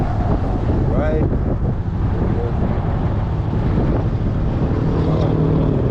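A Yamaha Majesty 400 scooter rides on a windy day, with heavy wind buffeting the microphone and a low steady engine rumble underneath.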